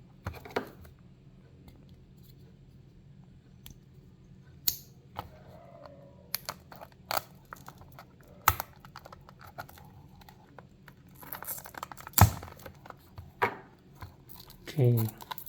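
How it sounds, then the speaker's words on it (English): A Mini GT Lamborghini Aventador SVJ model car package is unboxed: sparse, close clicks, crinkles and taps of cardboard and plastic over quiet gaps, with a louder rustle at the end. "So let's unbox and see how this one looks."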